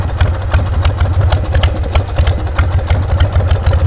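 A motorcycle engine running close by with a loud, steady, throbbing low idle that pulses evenly throughout.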